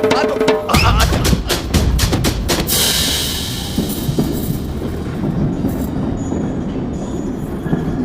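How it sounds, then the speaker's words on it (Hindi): A train pulls away along the rails, opening with a burst of sharp clanks and clatter, then a loud steady rumble of wagons rolling on, with faint voices mixed into the noise. "मेरी ट्रेन छूट जा रही है"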